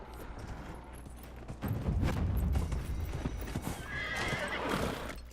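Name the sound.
horse hooves in video game Dragon Age: Inquisition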